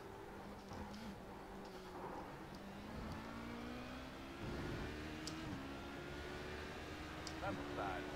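LMP1 prototype race cars in the iRacing sim at Imola, engines whirring and rising in pitch as they pass, a steady drone of engine noise running through the whole stretch with a couple of louder swells.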